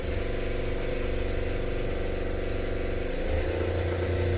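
A boat's generator set, aboard a 34 LS Tiara, runs with a steady mid-pitched mechanical drone, and its tone shifts slightly toward the end.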